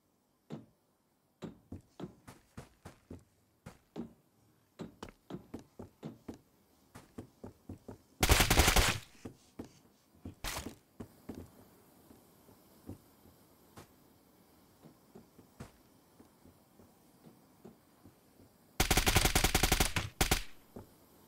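Tommy gun fire in a video game: scattered single gunshots and short cracks throughout, with two long, loud sustained bursts of automatic fire, recorded close with no talking.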